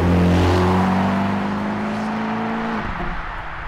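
A Ferrari California's engine revs loud and close, a sustained rising-and-falling drone with strong low harmonics that eases off near the end.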